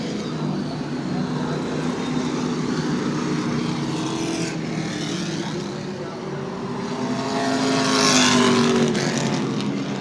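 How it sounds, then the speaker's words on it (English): A Sportsman stock car roars around New Smyrna Speedway during a night feature race, its engine noise loud and unbroken for the whole stretch and swelling louder near the end as the cars come closer. "Jason Vail has got his car revved up and going."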